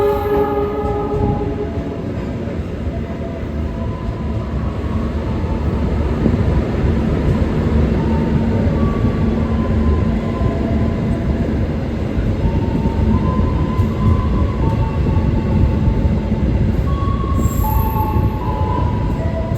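Continuous rumble and rolling clatter heard from inside the moving KA Argo Semeru executive train between Surabaya and Jakarta, a steady loud drone with faint higher squeals near the end.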